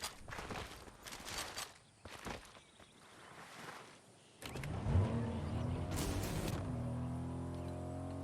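Car in the video game Fortnite: footsteps and door or window noises, then an engine starts and settles into a steady, moderately loud motor hum.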